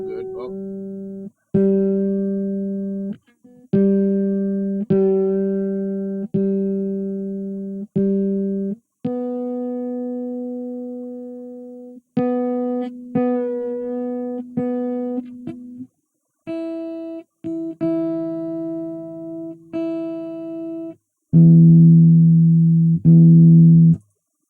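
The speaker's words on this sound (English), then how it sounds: "I tuned this guitar very little." A guitar being tuned, with single plucked notes and short strums repeated and adjusted in pitch, close and clear with pauses between strikes.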